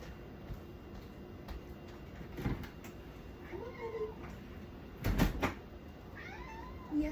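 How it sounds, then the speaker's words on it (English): A pet cat meowing outside a door to be let in, several short, faint, rising meows spread out over a quiet room, with a couple of dull knocks of door handling between them. "I gotta let my kitty witty in"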